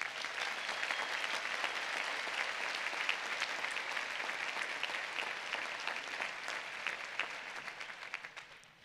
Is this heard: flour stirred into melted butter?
no